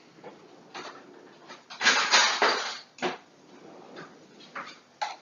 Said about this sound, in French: je vais prendre une cuillère